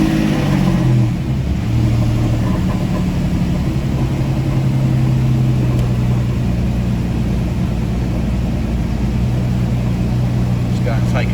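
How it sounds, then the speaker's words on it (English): A Porsche 997.1 engine idles steadily with a low continuous rumble after starting, close and loud, its fan running during a water pump and drive belt repair, with a faint voice partly under it. "start the car."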